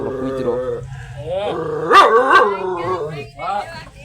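Dogs bark and yip close by, several sharp barks breaking through a person talking.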